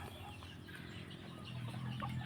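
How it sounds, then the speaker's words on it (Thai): Young white-feathered chicks of a Thai gamefowl line cluck softly near a farmhouse, a steady low murmur of small calls running throughout with no talk over it. "วันนี้นะครับจะพามาชม ลูกเจ้าเยียขาวนะครับ ไก่รุ่นหน้าบ้านนะครับ"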